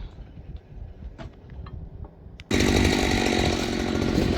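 An old Jonsered 630 chainsaw, freshly repaired and fitted with a bar, starts up abruptly partway in and runs loud and close, a harsh sustained engine roar after a few quieter knocks and clicks.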